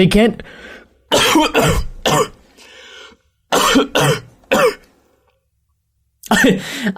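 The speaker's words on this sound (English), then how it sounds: "began to cough more violently as I did this" A person coughs in several harsh, heavy bursts, close to the mic, separated by pauses of near silence.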